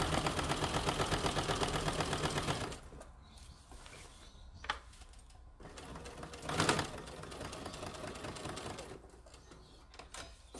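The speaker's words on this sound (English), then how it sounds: "And then I sew straight." A sewing machine stitches fabric around the pocket of an apron, its rapid, steady whir running close and loud, then quieter and intermittent as it slows and stops at a corner.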